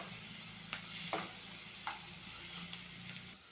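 Onions frying in a pan give a faint, steady sizzle with a few soft stirring scrapes, close by but quiet.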